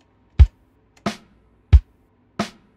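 A programmed neo soul beat plays four evenly spaced hits, kick drum on beats one and three alternating with snare on two and four, crisp and dry with nothing else around them.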